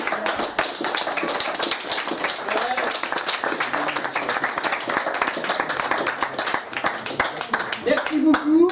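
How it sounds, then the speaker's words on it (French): Guests at a 70th birthday celebration give a lively round of applause, with sharp, close hand claps continuing steadily and voices talking underneath near the end. "on peut l'applaudir"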